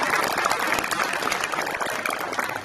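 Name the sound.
applause at signing day ceremony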